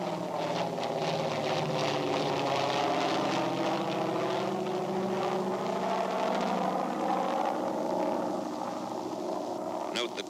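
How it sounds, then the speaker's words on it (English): A PBY aircraft takes off towing a CG-4A glider, its propeller engines giving a steady, loud drone with shifting tones throughout, while someone narrates over it. "Note the takeoff of the PBY before the glider."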